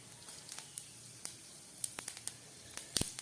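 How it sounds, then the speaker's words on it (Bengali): Panch phoron and nigella seeds crackling in hot oil in a wok, with scattered sharp pops and spits over a faint steady hiss, fairly close. "তেলটা গরম হয়ে গেছে, এবার দিয়ে দিচ্ছি একটু পাঁচফোড়ন, কালো জিরে আর পাঁচফোড়ন"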